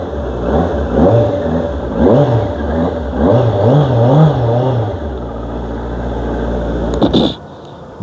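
A QJ Motors SRK 600 street bike with an electronic fuel-injected engine revs repeatedly in loud, rising bursts, then settles into a steady idle before a brief clatter near the end.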